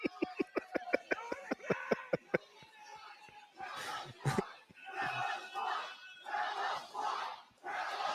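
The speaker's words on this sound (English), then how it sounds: "Tell us why, chants from the crowd" Wrestling arena crowd at a live AEW Dynamite show chanting in rhythm, opening with sharp evenly spaced claps, then rising voices and crowd noise in repeated swells.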